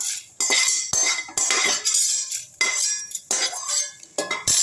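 Drumstick pieces being grated by hand for drumstick vathal, a run of dry, scraping rasps in uneven bursts with brief pauses, close and fairly loud, with no talking.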